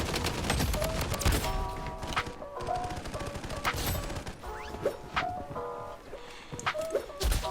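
Gunfire rattles in the shooter game Bloodstrike, with dense bursts of shots and sharp impacts layered over game music and effects, loud and continuous with brief lulls.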